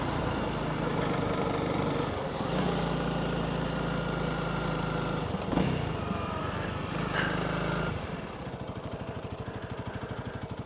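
A 2024 Honda CRF300L Adventure motorcycle engine drones steadily while riding, with pitch shifts suggesting gear changes and a rougher, lower note after a drop in speed near the end; close and continuous, with no talk.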